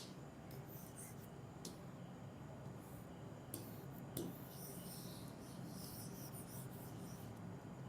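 A marker or chalk writes on a board in a classroom lesson, making faint scratchy strokes and a few sharper taps over a steady low hiss, with no clear voice.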